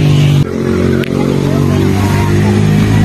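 Kawasaki Vulcan Custom 900 motorcycle engine running nearby with a loud, steady rumbling drone, brief dips in the sound, and people talking in the background.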